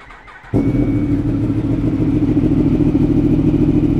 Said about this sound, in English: Let's get a little spicy sound check of our giveaway Yamaha R1